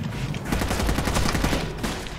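Rapid gunfire from a firefight in Rainbow Six: Vegas 2, a dense volley of overlapping shots rattling continuously and loudly throughout with no pause.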